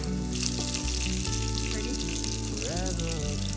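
Four garlic cloves sizzle and fry in a hot pan, a steady loud crackle throughout with steady tonal music playing over it.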